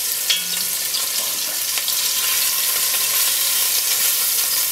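Meatballs browning in a hot frying pan give a steady, loud sizzle and crackle with faint spatters, continuous and alone.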